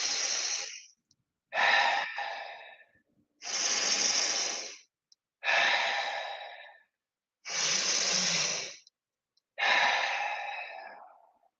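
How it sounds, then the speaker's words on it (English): Circular breathing during a guided breathwork exercise: six long, close, airy breath cycles, each a loud rush of air separated by short silent pauses, with no talking. "Into the belly, chest, let it go. On your own, that circular breath."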